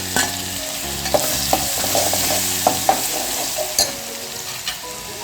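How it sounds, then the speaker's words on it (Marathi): A green chili, garlic and cumin paste fries in oil for a spinach dish, a steady close sizzle broken by repeated sharp spoon scrapes and taps against the pan, with no talking. "आता आपण हिरवी मिरची लसूण आणि जिऱ्याचं वाटण घालायचं आहे"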